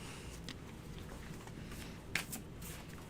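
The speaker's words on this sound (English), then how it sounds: "Shuffle." Tarot cards shuffled by hand at close range, a soft steady riffling and slapping of the deck with a few sharper snaps, fairly quiet against a faint background hiss.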